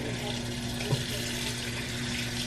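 Tap water runs steadily into a bathroom sink, warming up during a nighttime skincare routine; a continuous close hiss and splash with one brief knock partway through.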